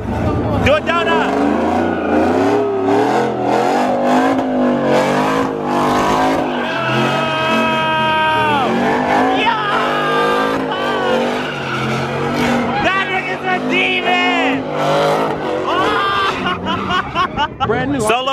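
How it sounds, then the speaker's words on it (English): Car doing donuts at a Saturday drifting meet on brand-new tires, its engine revving and tires skidding continuously under loud, overlapping voices and a busy crowd. "Do a donut!"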